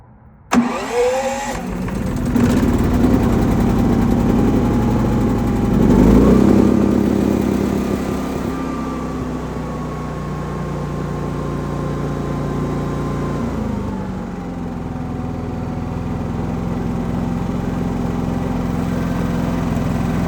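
A food truck generator engine cranks and catches near the start, then settles into a steady, loud running drone while it warms up, with a brief surge in pitch around the middle before it levels off again.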